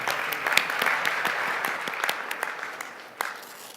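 Audience applause after a startup presentation at a 2012 launch festival, steady clapping from a crowd throughout with scattered sharper claps standing out near the front.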